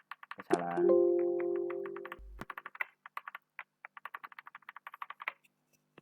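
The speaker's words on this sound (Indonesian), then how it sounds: "Keyboard saya di sama kucing." A computer keyboard with keys pressed by a cat: irregular soft clicks and taps scattered across several seconds, preceded by a sustained tone and a thump, with no voices.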